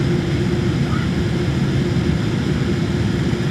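Airplane taking off on the runway ahead at an airport, a loud, steady, unbroken engine roar heard from inside another waiting aircraft, dense rumble throughout with no distinct voices.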